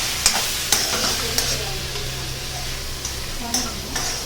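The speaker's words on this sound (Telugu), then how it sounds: "ఇది మంచిగా అన్నీ బాగా ఫ్రై అవ్వాలి." Kerala-style chicken curry masala with tomato and green chilli sizzles in a frying pan while a spoon stirs it, with sharp scraping knocks against the pan at irregular intervals over a constant frying hiss and a low hum.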